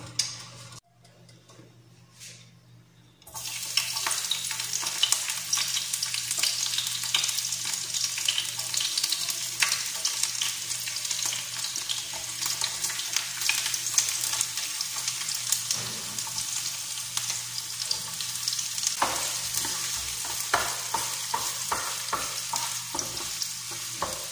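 Liver frying in olive oil, a steady dense sizzle that starts abruptly after a brief quiet moment and continues loudly throughout, with scattered crackles, pops and faint clinks from stirring; no one speaks.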